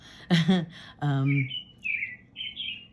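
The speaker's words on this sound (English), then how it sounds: "That's my bird clock." Several short, high chirps from a bird clock sounding its hourly bird call ring out after a voice speaks, bright and fairly close, each tweet brief with small gaps between them.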